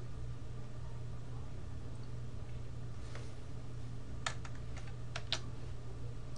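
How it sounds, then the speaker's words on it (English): Several sharp keystrokes click on a computer keyboard during typing in a Linux terminal, as a short irregular burst over a steady low background hum. "If we want to continue, we type yes."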